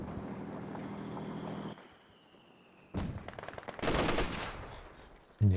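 Machine gun fire from an emplacement in Company of Heroes 2, a World War II strategy game, heard as dense rapid bursts interrupted by a short pause, with a loud impact at the very end.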